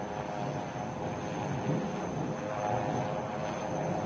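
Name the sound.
HAL twin-engine advanced light helicopter flying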